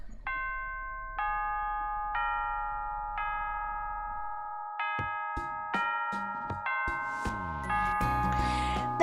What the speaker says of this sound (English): The bell's high, clear note signaled the end of fourth period